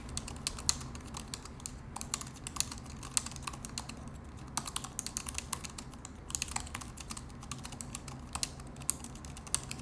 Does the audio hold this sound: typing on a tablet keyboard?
yes